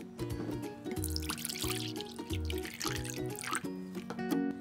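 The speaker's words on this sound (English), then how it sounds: "I'm gonna pour some of this red." Red Jell-O liquid poured in a home kitchen, a wet splashing and dripping stream with small irregular splashes, close and moderately loud, alongside faint tonal music.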